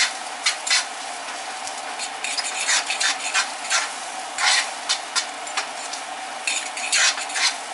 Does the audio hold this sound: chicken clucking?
no